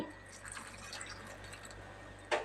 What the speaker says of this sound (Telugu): వాటర్ అయితే కొన్ని వేయాలి